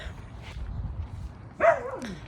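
Dogs in a backyard: one gives a single short yelp, fairly close, after a quiet stretch of faint outdoor background noise.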